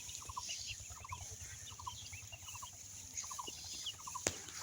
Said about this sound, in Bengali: 15 দিন বয়সী ব্রুডিং কমপ্লিট খাকি ক্যাম্বেল হাঁসের বাচ্চা